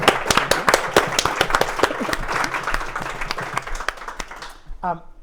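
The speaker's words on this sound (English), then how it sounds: "Huge thanks and round of applause for Joscha for coming up with" Audience applause at the close of a live debate on consciousness and AGI, a loud dense burst of clapping with a few cheers that thins out toward the end, voices briefly heard.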